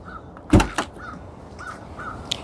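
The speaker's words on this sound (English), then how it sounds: "That's the traditional classical beep when you close the door." A Tesla Model X Plaid car door shuts with a solid thud, followed by several soft, evenly spaced electronic chime beeps.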